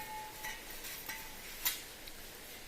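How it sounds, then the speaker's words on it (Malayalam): Grated coconut is stirred by hand into moistened rice flour for kalapputtu, making a soft, steady scraping and rustle with a few brief clinks of a utensil against the bowl, close by and alone. "അതിലേക്ക് നമുക്ക് ഈ നാളികേരം കൂടി ഒന്ന് ചേർത്ത് കൊടുത്ത് മിക്സ് ചെയ്തെടുക്കാം"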